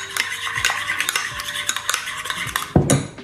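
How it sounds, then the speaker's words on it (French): A spoon stirs a lentil mixture in a pot after pepper is ground in, giving repeated scraping and clinking strokes of metal against cookware, close and clear, ending with a louder knock. "Et je vais mélanger."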